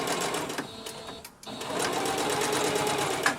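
A sewing machine stitches light see-through fabric, a close, rapid mechanical chatter that pauses briefly, then resumes in a steady run.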